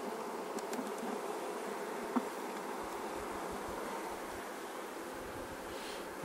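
Honeybees fanning in a hive nuc make a soft, continuous buzzing drone, even and fairly quiet throughout, with no voices.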